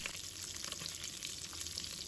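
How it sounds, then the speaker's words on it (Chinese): Sea bass fillets frying in oil in a wok give a steady, close sizzle with soft crackling spatter throughout and no voices. "一面煎至金黄，然后翻面，把它煎至两面金黄"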